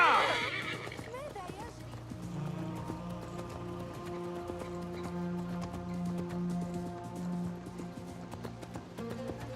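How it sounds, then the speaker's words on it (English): A horse neighs loudly at the start, then galloping hooves continue in Assassin's Creed Mirage, with game music holding steady tones and someone talking throughout. "Oh, the horse has got stamina as well."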